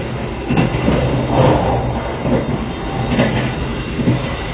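A night train runs on the rails between Jakarta and Kediri, a steady close rumble with faint rhythmic clicks of the wheels, heard from inside the carriage with no talking.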